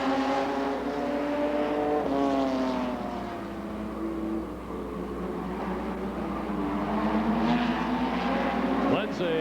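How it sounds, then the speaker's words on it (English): Race car number 97 with a new motor at a CNE stock car race in 1990, engines droning and shifting pitch as cars circle the track, with a crowd or announcer-like voice mixed underneath. "new motor seems to be working real well for the 97 car as he gets motored around the track in a hurry"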